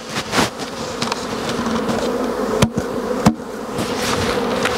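Close, continuous buzzing of many honeybees at a hive that nearly starved, with two brief knocks against wood partway through.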